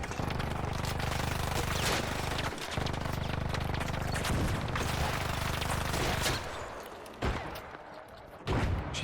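The Rascal grenade launcher in ARC Raiders fires in a dense, continuous roar of shots and blasts against an ARC machine, loud and steady before it breaks into a few separate bangs near the end.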